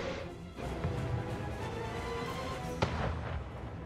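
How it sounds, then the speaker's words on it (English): Pirate ship cannon fire in the strategy game Anno 1800, heard as a dense, continuous barrage of booms and bursts with one sharper blast standing out near the end. "Scary, that cannon."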